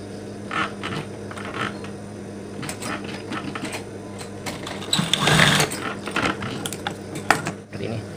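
Sewing machine stitching elastic onto a mukena prayer garment, a mechanical whirring that runs in short bursts and stops, with a louder stretch of stitching midway and faint background noise.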